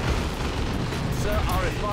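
Stick bombs going off in Dawn of War II: Retribution, a dense rumbling wash of low booms with crackling bursts, steady and loud throughout, with a commentator's voice faintly mixed in.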